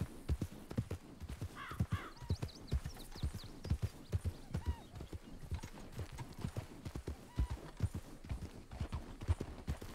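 Horse hooves clip-clop steadily in the video game Red Dead Redemption, a close, regular rhythm of hoofbeats on hard ground with a brief whinny-like call early on and no speech.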